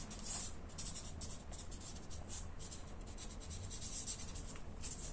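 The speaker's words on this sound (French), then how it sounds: "je vais colorier toute ma fleur" A marker colouring in a paper flower, close soft scratchy strokes in a quick, repeated rhythm over a quiet room.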